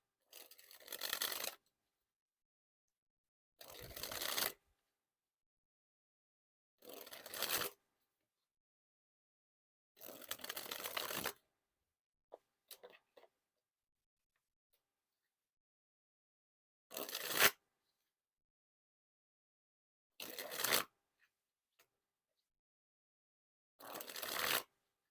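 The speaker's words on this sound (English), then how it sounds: "And now to dribble the cards here." A deck of yellow-backed Bicycle Rider Back playing cards is dribbled from hand to hand, producing eight short crisp fluttering bursts spaced a few seconds apart with silence between, close and clear with no talk.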